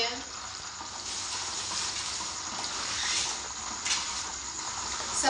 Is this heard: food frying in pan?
yes